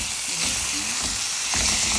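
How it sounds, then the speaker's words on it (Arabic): Rice and onion fry and get stirred in a pot, giving a dense, continuous sizzle with soft scraping stir strokes, close and steady for the whole two seconds. "قلبت بقى تقلبتين كده لما الرز نضح ميته"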